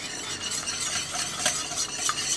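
Grated Comté cheese is stirred into a béchamel sauce in a pan, giving a continuous soft scraping and gentle bubbling hiss with a few light clinks, close and alone.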